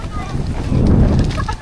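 Strong, sudden gusts of coastal wind at Lobo, Batangas roar and buffet at close range as a steady low rumble that swells toward the middle, with people talking over it.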